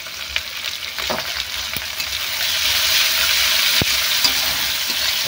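Chopped onion and cumin seeds fry in hot oil in a pan, a steady close sizzle that grows fuller partway through, broken by a few sharp clinks and scrapes of stirring; no voices.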